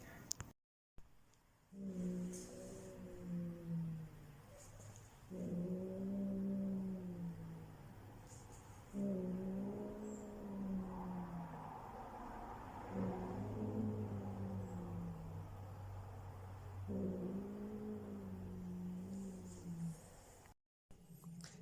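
A low, harmonic cat growl rises and holds in several drawn-out bursts, each a few seconds long, close and steady with brief pauses between.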